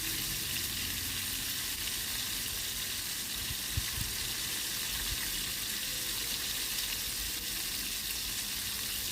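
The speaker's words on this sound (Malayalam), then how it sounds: "നേരത്തെ തിരുമ്പി വെച്ചിരിക്കുന്ന ഫിഷ് പീസസ് സ്വല്പം എണ്ണയിൽ ശാലോ ഫ്രൈ ചെയ്ത് സെമി ഫ്രൈ ചെയ്തെടുക്കാവുന്നതാണ്" Fish pieces shallow frying in a little oil, a steady close-up sizzle running unbroken throughout with faint occasional stirring clatter and no voices.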